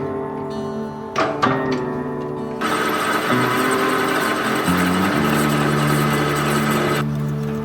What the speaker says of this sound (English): I can put them into the lathe and machine out the bore for my new stainless tubing